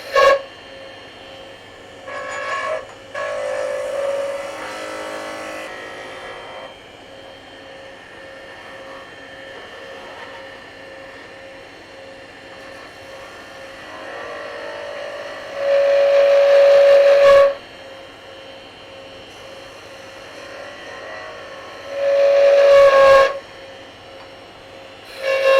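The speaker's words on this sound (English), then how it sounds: "These peeling cuts will take that wood down really quick." A wood lathe spins a Scottish spurtle as peeling cuts are taken, a steady hum broken by several loud, tonal whining bursts of the tool biting the wood.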